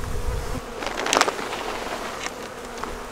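A strong overwintered honeybee colony buzzing in its hive, a steady close-up drone of many bees with a brief louder swell near the start.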